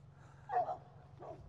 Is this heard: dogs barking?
yes